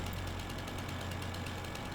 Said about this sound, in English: So great to just carry your chainsaw around with you everywhere you go.